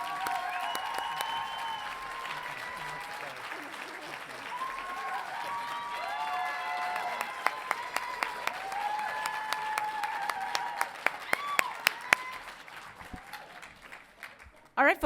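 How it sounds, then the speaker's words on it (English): Audience applause at a university graduation hooding ceremony, a steady wash of clapping from a large crowd that swells with a few sharper claps near the end, mixed with cheering voices. "please help me give Dr. Dave a huge round of applause"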